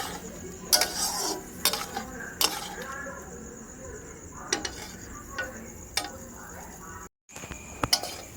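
A spoon or spatula scrapes and clinks against a pan while food for chicken pakoras is stirred, with irregular metallic knocks and a soft sizzle beneath a voice speaking.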